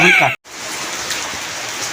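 Rain falling on a rural Punjab afternoon, a steady close hiss of drops on surfaces that follows a brief spoken phrase and a short gap, continuing evenly to the end.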